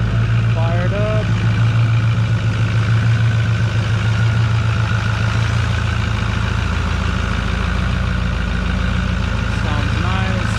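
A 2008 diesel engine idles steadily just after starting, a loud, constant low rumble with a droning hum that holds through the whole stretch.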